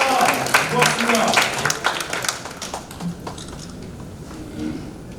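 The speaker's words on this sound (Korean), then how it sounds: "여러분 힘찬 박수 부탁드립니다" Applause from an audience at a political assembly, a dense patter of clapping that is loudest at the start and gradually thins out, with voices talking through it.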